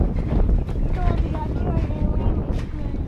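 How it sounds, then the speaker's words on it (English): Strong wind blusters across the microphone outdoors in a backyard, a heavy, continuous low roar with gusty buffeting that swamps the scene; a voice can be faintly heard. "I don't know if you'll be able to hear me over the wind"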